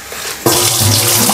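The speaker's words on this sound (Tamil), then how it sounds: "தண்ணி ஊற்றி கொஞ்சம் நேரம் ஊற வச்சுட்டு நல்லா கழுவிட்டு" Water pours into a large vessel of raw rice, a sudden loud gushing splash after a quiet start that carries on steadily to the end, close by and with no talking.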